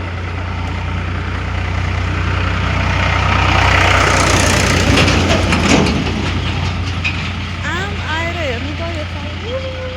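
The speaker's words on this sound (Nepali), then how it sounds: "ट्र्याक्टर आएर" A tractor arrives along a village farm track, its engine rumbling loudly and swelling as it draws near before easing slightly, with faint voices toward the end.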